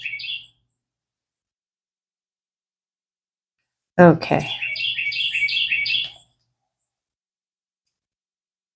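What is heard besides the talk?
birds chirping outdoors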